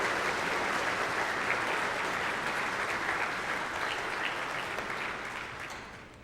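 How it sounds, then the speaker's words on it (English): A church congregation applauds parents and guardians, loud dense clapping that holds steady and then slowly fades toward the end, with no voices over it. "give them a round of applause for taking on that incredible role"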